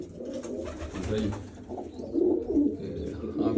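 A pigeon sitting on its eggs coos in low, throaty bursts close by, growing louder toward the end, with faint background murmur.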